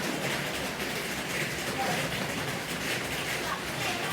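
Steady, dense rain hisses continuously, close and fairly loud, with no pauses.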